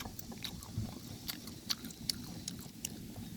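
Close crunchy bites and wet chewing of a spicy squid snack, several sharp crackles scattered over steady mouth noise, with no talk.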